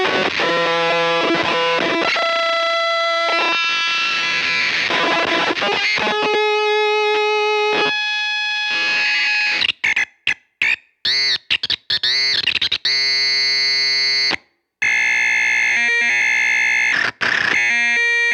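A Glitch Witch analog auto-modulated logic fuzz pedal is pushed into self-oscillation, producing loud, harsh, squealing distorted tones that warble and shift pitch, then break into choppy, stuttering bursts with sudden gaps.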